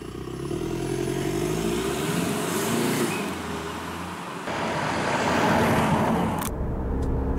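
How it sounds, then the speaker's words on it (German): A 2019 VW Passat with a 240 PS TDI diesel accelerates, its engine rising in a steady, loud drone with a brief dip midway before cutting off near the end. "der 240 PS TDI steckt unter der Haube und den lassen wir jetzt mal los"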